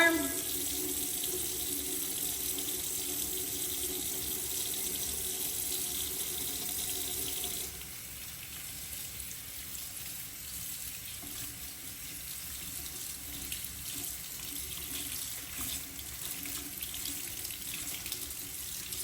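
A bathroom tap runs in a steady, even hiss while a makeup brush is rinsed, the flow shifting slightly in tone partway through and continuing without speech.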